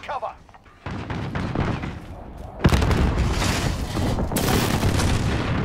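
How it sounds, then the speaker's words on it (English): Precision airstrike explosions in Call of Duty Modern Warfare, a run of loud, rumbling booms and blasts that thicken and grow heavier partway through, with continuous dense battle noise behind them. "Enemy precision airstrike. Take cover."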